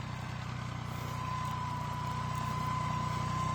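A steady, low tractor engine idle drones throughout, even and unchanging, with a faint whine riding on top.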